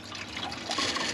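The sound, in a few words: coolant draining into a drip pan from a 2006 Chrysler 300 SRT8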